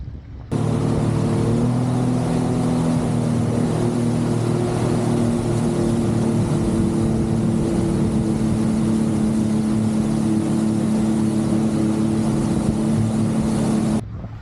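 A jet ski runs on open water with a steady, loud engine drone and a rushing hiss, continuous for several seconds before cutting away.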